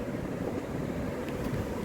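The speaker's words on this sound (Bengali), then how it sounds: "ঝুরঝুর করে বৃষ্টি হচ্ছে, প্রচণ্ড হাওয়া দিচ্ছে" Strong wind blows steadily during a light drizzle, a continuous broadband rush with no distinct gusts, loud and close to the microphone.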